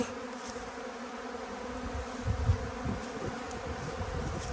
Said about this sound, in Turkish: Arılarımız iyice coştu arkadaşlar.